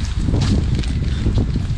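Wind blows outdoors on a rainy street in Liverpool, buffeting the microphone with a steady low rumble and rustle for a moment, and no one speaks.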